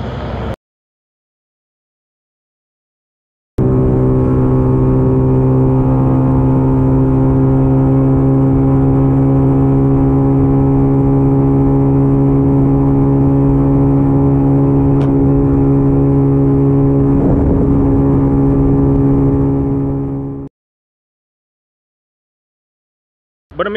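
A modified FT 125 motorcycle with a replica Akrapovic exhaust holds a loud, steady high-speed drone for about seventeen seconds, its engine pitch slowly climbing, then cutting off abruptly into silence.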